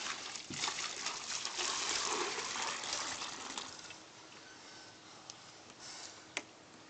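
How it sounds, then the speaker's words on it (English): A child splashes and sloshes water in a bucket, producing soft irregular trickles and gushes with a few sharp ticks and knocks, close and fairly quiet, with no talk. "You going to play with the water more?"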